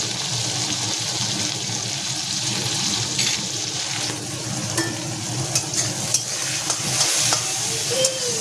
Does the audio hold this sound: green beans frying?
yes